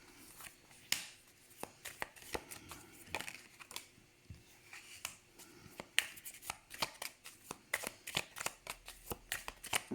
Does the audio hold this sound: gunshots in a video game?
no